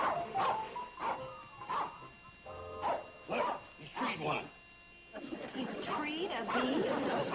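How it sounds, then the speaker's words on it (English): A dog barks repeatedly at the base of a tree where it has cornered a bee, rhythmic loud barks interspersed with yips, with people talking over it. "The dog will keep barking and circling the tree"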